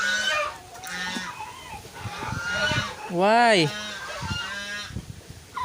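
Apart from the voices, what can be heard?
baby goose honking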